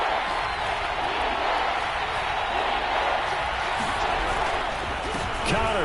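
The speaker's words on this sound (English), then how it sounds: "The crowd here in the Dome making things difficult." Crowd noise fills a domed stadium during a football video game broadcast. A constant, dense roar runs throughout, with a commentator's voice over it.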